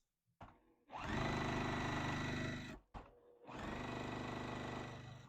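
A sewing machine stitches a quilt block in two long, steady motor-driven runs separated by a brief pause, loud and close with no talk.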